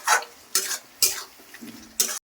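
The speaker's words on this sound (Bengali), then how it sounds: "এখন স্বাদ মতো লবণ দিয়ে দিব, পরিমাণ মতো হলুদ দিয়ে দিব, কারণ ভালো করে নেড়ে চেড়ে ভাজতে হবে।" Katla fish pieces coated with salt and turmeric fry in a pan, four distinct bursts of spatula scraping and sizzling spaced evenly apart, then a sudden cut to silence.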